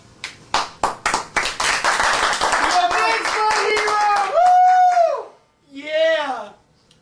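Scattered, then quickening hand claps greet the host on a wrestling talk show, followed by loud whooping and excited voices, with people talking over it.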